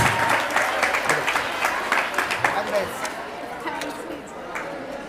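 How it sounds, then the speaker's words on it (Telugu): A school audience at an annual day celebration applauds steadily for several seconds, with dense clapping from a crowd and faint chatter mixed in. "Let's welcome Koteswari with claps."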